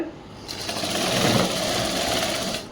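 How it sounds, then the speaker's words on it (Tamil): A sewing machine stitching a chudi top for a school uniform runs in one steady, loud, continuous whirring burst of a couple of seconds, close by, starting and stopping cleanly with no talk over it. "இப்போ இப்படியே தைச்சிட்டு வரும்பொழுது"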